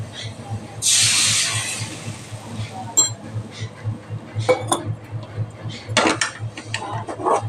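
Masala mixed with water is poured onto well-sautéed onions in a hot pan and stirred for a sundal chaat. A loud sizzling hiss bursts at first, then settles into intermittent spoon clinks and scrapes against the pan over a low hum.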